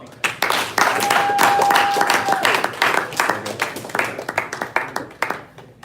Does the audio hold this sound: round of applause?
yes